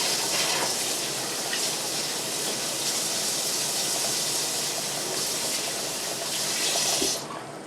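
Water runs steadily from a kitchen tap while fingers are rinsed beneath it during cherry dumpling cooking, a continuous close hiss that cuts off abruptly near the end.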